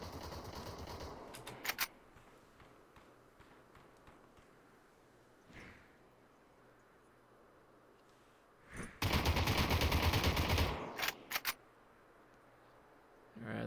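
Rapid bursts of gunfire in the VR battle royale game Population: One, a brief volley near the start, a faint pop midway, then a loud sustained burst with trailing shots, under a quiet low background.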